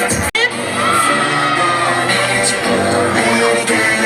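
A school intramural pageant audience cheers and applauds contestants in sports attire with a loud, continuous roar of clapping, whoops and shouting children, right after a brief bang at the start.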